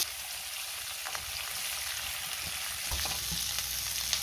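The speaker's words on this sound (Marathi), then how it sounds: "ह्याच तेलामध्ये कांदा घालायचा आहे आणि कांदा चांगला परतून घ्यायचा आहे।" Onion sautéing in oil for a paneer cashew masala gives a continuous close sizzle, with light stirring knocks of a spoon against the pan scattered through it.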